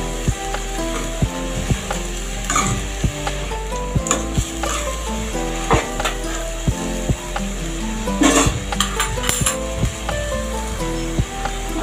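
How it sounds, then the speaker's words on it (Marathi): Salted vegetables stir-fried in a pan: continuous sizzling broken by frequent sharp scrapes and clacks of a spatula tossing the mix, close up and busy, no voices. "परत भाजी चांगली वर खाली परतवून घ्यायची।"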